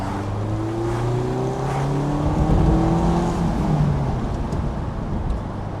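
A Mazda MX-5 ND engine revs and climbs through the rev range while driving on Black Forest mountain roads, a loud, continuous rising drone heard from inside the car; no speech.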